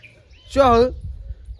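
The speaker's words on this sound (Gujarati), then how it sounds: "મોરલો આવ્યો." A peacock gives one short, loud, wailing harmonic call at a rural home in the early morning, rising above a low background rumble and fading into quiet afterward.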